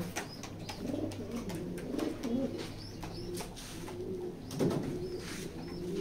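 Racing pigeons in a loft coo softly and repeatedly nearby, their low rolling calls over a steady hum, with a few faint chirps.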